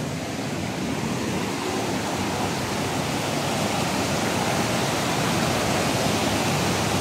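A river flows steadily with a loud, continuous rushing of water, deepening along a stony crossing in a storm-swollen Philippine stream, with no voices over the wash.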